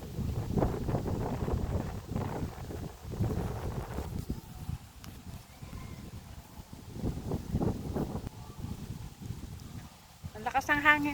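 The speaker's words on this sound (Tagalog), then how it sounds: "Ang lakas ng hangin, guys." Strong wind gusting across an open outdoor area in Kapatalan, Siniloan, Laguna, rumbling on the microphone in uneven surges, with people talking throughout.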